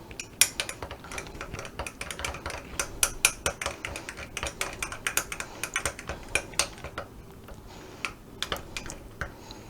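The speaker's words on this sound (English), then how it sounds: "A little salt, a little pepper. And then we just stir it all together." Remoulade sauce is stirred with a utensil in a bowl, producing a rapid, irregular string of close clicking and tapping against the bowl that thins out toward the end.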